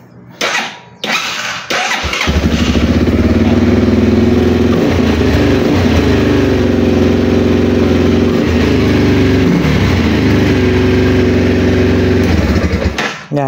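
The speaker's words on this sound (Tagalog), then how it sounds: "Yan, i-start yan kasi may power." Motorstar Z200 motorcycle engine cranks after a few clicks, catches and settles into a loud, close, steady idle, then shuts off at the end.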